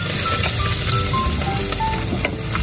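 Onion and garlic frying in hot oil, a steady close sizzle with crackling pops and a few scraping stirs throughout, no voices.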